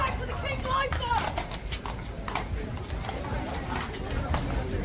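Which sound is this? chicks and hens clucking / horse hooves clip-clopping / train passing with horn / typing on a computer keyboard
horse hooves clip-clopping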